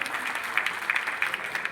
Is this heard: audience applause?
yes